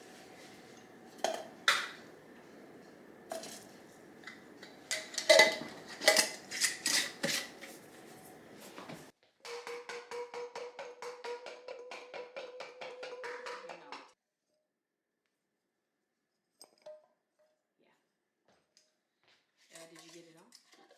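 Garlic cloves rattle and clatter inside a shaken bowl in irregular bursts, then a rapid, steady run of shaking for several seconds, followed by near silence and a few faint knocks.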